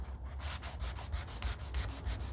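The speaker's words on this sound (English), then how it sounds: "any little bit of shine, there's some right here, needs to be sanded away" Steady back-and-forth scraping of a sanding block rubbed over varnished wood, about five strokes per second, close and even, with no voices.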